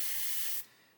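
Short burst of red spray paint hissing from an aerosol can onto a model cross, a bright steady spray that cuts off abruptly after about half a second.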